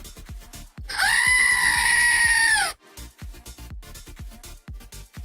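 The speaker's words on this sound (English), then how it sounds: "if you want the actual screaming goat," A goat screams in one long, loud, sustained wail lasting well over a second, with sharp clicks and taps around it before and after.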